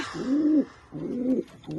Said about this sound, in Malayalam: ഇപ്പം ഇതാണ് നമ്മളെ പ്രാവ്